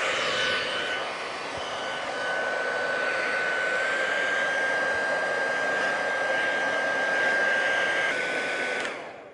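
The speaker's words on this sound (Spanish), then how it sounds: "el secador prendido en caliente, que saque aire caliente" A hair dryer runs steadily on its hot setting, a loud continuous whoosh with a thin high whine that holds for about nine seconds before cutting off at the end.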